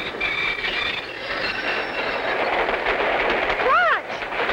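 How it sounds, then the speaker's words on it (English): A cartoon train grinds to a halt, its wheels letting out a rising and falling metallic squeal near the end over a rumbling, rattling run. "It looks like the train has stopped."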